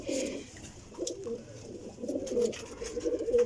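Teddy pigeons coo in low, throaty, repeated phrases, fairly close, with a faint background hiss.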